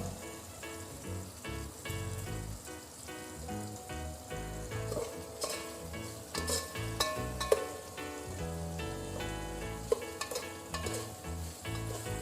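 Chopped tomato with salt sizzling and frying in a pan for vegetable biryani, a steady crackling hiss broken by the clatter of stirring against the pan, close and continuous with no talking.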